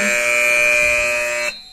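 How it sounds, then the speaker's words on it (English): A scoreboard buzzer at a soccer field marks the end of the first half, one loud, sustained electronic tone lasting about a second and a half before cutting off abruptly, with no talking. "And as that buzzer sounds, folks, that is the end of the first half"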